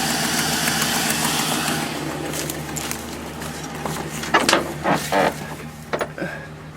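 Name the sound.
5.3 LS engine running after VATS security bypass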